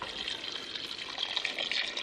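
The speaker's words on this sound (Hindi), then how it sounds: "अब इसमें ऐड करेंगे पानी।" Water pours steadily into a pan of green peas and potatoes, a continuous soft splashing hiss that stays even and close throughout.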